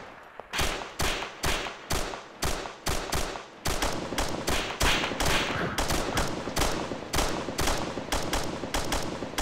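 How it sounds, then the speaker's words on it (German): Rapid volleys of gunshots at a shooting practice range during an evasive-movement firing drill, loud, close and repeated in dense bursts with brief gaps, no talk. "Ein Schuss."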